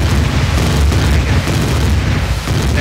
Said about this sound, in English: You guys got a massive artillery turret down at the bottom, popping shots as well.